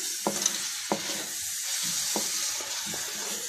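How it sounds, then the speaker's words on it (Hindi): A spoon stirs whole okra masala in a pan, scraping and tapping the metal in several distinct strokes over a steady hiss of frying, close and clear with no talking. "इसको आहिस्ता से चमचा चला के मिक्स कर लें"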